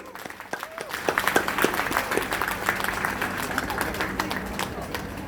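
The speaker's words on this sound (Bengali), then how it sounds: "আবার একটা আমরা তালি দেই" Audience at an alumni reunion applauding, a dense wash of many hands clapping that swells after a second and holds steady, with crowd voices mixed in under the clapping.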